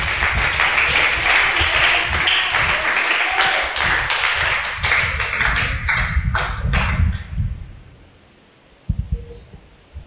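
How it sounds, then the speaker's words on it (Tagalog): Church congregation applauding its Lord, a dense wash of many hands clapping for several seconds before thinning out and fading, with a brief voice and a few thumps just after. "Palakpakan po natin ang ating Panginoon."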